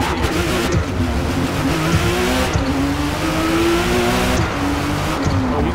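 A race car roars continuously at high revs in Forza Motorsport online racing, its engine note climbing and shifting while tyres squeal, loud and close with no talk.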